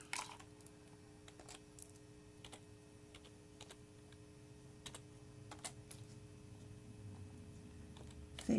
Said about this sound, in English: I type in your name, put Jan Smith.